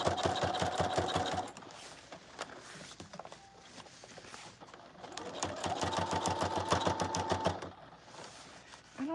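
A sewing machine in a boutique runs in two long bursts of fast, rhythmic stitching, close and loud, separated by a quieter pause with faint handling; the thread breaking itself is not distinctly audible.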